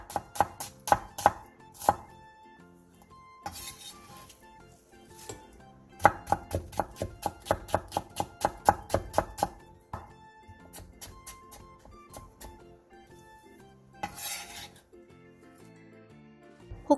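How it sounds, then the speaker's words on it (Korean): A knife chops chives into short lengths and slices half an onion and some carrot into thin strips on a cutting board. Quick, rhythmic runs of crisp close taps are broken by short pauses. "부추 조금을 3에서 4cm 정도 길이로 자르고 양파 2분의 1개와 당근 조금을 얇게 채 썰어 주세요"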